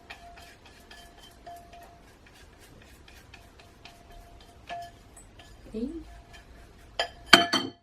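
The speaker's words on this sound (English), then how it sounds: "scrape down the sides of my icing sugar bowl" Spatula scraping around the sides of a bowl of icing sugar while making apple crumble cupcakes, light repeated scrapes and taps leading to a louder clatter near the end.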